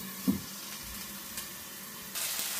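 Spice paste bubbling in oil in a covered pan for a paneer curry gives a faint, steady sizzle, with a couple of soft clicks and a slightly louder stretch of frying near the end.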